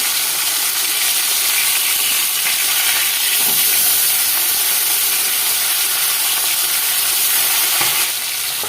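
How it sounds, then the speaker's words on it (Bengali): Fish fries in hot oil in a wok, giving a loud, steady sizzle and hiss that holds without a break, close up and with no voices. "আমি উল্টে আর একটু ভেজে নেবো"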